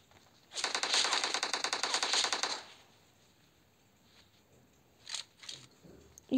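Rapid automatic gunfire rattles in the video game PUBG as a fast, even burst of about two seconds. It is followed by quiet and then a couple of short, sharper shots near the end.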